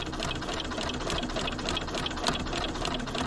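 A sewing machine stitches appliqué fabric with a walking foot fitted, running at a steady, continuous whir with an even mechanical hum close by and no talking.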